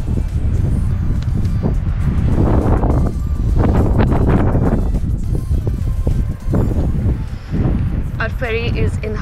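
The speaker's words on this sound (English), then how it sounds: "it's super windy" Strong gusts buffet the microphone on an exposed hilltop walking track on Maria Island, Tasmania, a loud rumbling roar that swells and fades in waves, with a voice briefly speaking near the end.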